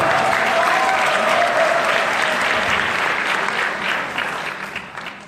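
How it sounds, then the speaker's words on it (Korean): Auditorium audience applauds in a dense, sustained wash of clapping that holds steady, then fades out over the last seconds. "박수 부탁드립니다."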